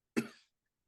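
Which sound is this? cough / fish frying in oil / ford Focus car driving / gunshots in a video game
cough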